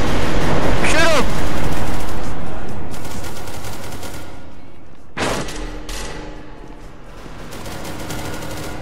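Loud, close bursts of automatic gunfire from SCP: Secret Laboratory, with one heavy rattling volley at the start and another sharp burst midway, fading between them.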